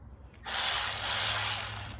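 Milwaukee 3/8-inch regular-speed cordless ratchet, not the fuel or high-speed model, starting up abruptly after a brief quiet moment and whirring loudly and steadily to the end with a high mechanical whine.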